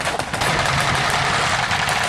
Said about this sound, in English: There seems to be artillery fire coming onto the area.